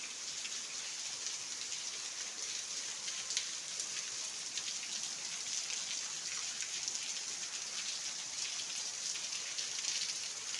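Steady rain pours down around a Shiva temple, a dense, even hiss of drops on surfaces with no pauses, continuous and moderately loud throughout.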